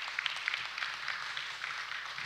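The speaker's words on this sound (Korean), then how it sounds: "답변 잘해주시라고 박수 한번 더 보내주시면 고맙겠습니다" An audience at a town hall meeting in a new city hall applauds, a soft, steady patter of many hands clapping at some distance, brief and unbroken.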